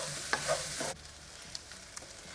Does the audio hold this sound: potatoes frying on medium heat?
yes